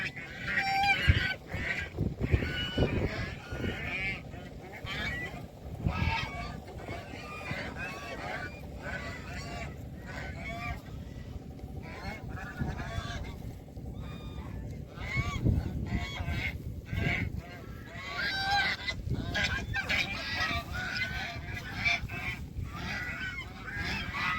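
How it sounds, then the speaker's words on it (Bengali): A flock of geese honks on the bank of the Jamuna river, a loud, busy chorus of overlapping calls that carries on without pause, with a few voices briefly heard underneath. "হাঁসের ডাকগুলা সত্যি অনেক সুন্দর আর এই ডাকগুলা কিন্তু রিয়াল"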